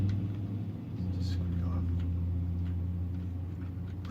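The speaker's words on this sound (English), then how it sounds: "The car drove away" Car driving away in a video game, a steady low engine rumble with a faint revving rise, continuous and fairly close, alone without talk.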